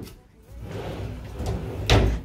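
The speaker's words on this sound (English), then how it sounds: "More drawers." A wooden drawer in a villa room in Ubud, Bali slides open and then closes with a single solid thump near the end, close and fairly loud, with no talking.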